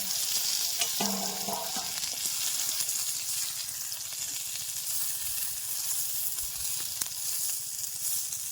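Fish wrapped in gourd leaves frying in a pan, a steady broad sizzle that runs throughout, with a brief tonal clatter near the start and a sharp utensil tick later.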